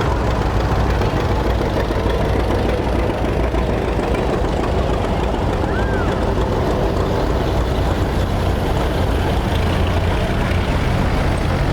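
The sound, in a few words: antique tractor engine running at festival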